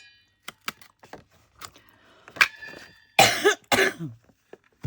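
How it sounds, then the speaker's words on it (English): Several short coughs, a few isolated ones early on and then a cluster of louder, harsher coughs near the end, close to the listener. "Did I say I stopped coughing?"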